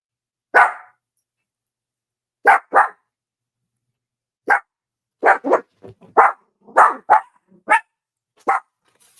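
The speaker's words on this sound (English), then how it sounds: "I don't feel like it, hearing y'all bark." Several dogs bark loudly and close by in scattered bursts, single barks and quick doubled ones, with pauses of silence between them and a few yips mixed in.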